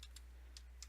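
Sparse keystrokes on a computer keyboard as someone enters file signatures during a hacking challenge, three or four light clicks spaced irregularly over a steady low hum, with no talking.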